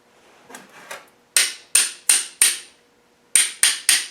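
A Rover V8 hydraulic lifter is tapped to free it: a few soft knocks, then a steady run of sharp metallic taps, a pause, and three more quick taps, close and clear.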